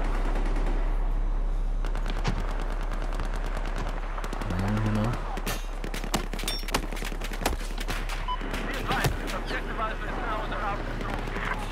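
Battlefield 4 multiplayer combat on PS4 brings dense, rapid gunfire in loud bursts with heavy impacts over a constant low rumble, with a person talking at points.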